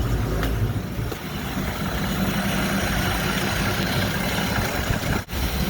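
A 1934 Plymouth engine running at idle with the choke just taken off, giving a steady, rough low rumble that holds evenly throughout with only a brief dip near the end.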